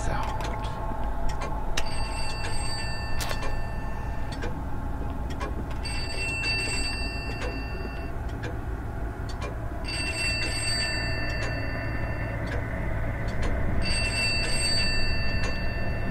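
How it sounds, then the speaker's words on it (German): In the horror game Pineview Drive, a telephone rings in repeated bursts of bright metallic bell trills separated by pauses, over a low ambient drone, while someone talks intermittently. "Dieses Telefon klingelt."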